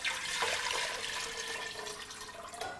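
Water pouring into a pot for wonton soup, a continuous splashing gush that gradually softens as the pot fills, ending with a brief final splash.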